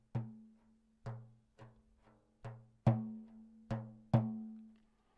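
Soft percussive guitar strokes, muted and plucked, sounding as a few separate hits spaced about a second apart, several landing as quick doubled attacks: left-hand double-stroke ghost notes.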